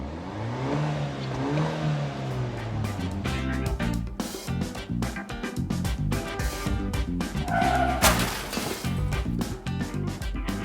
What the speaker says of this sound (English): Give it one more rev, Brendan.